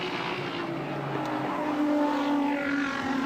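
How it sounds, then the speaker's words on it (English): Racing engines roar past at Bathurst in 1985, a Holden touring car chasing a BMW, a sustained droning whine that swells slightly as the cars draw nearer, heard from a distance. "But Peter's definitely got this BMW in his sights."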